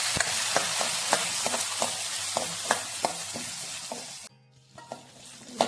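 Small onions sauté with garlic in a pan, a loud, continuous sizzle with regular scraping strokes of the spoon, the hiss briefly dropping away near the end.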